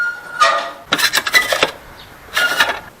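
A metal air-supply valve on an experimental fireplace is turned by hand, producing close, sharp scraping and rasping metallic squeaks in three short bursts separated by brief quiet.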